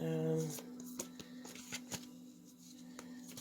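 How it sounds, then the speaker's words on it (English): Tarot cards are shuffled and pulled, a string of quick soft card flicks and slaps close by, with a voice briefly heard at the start. "I'm actually going to pull a couple of these cards."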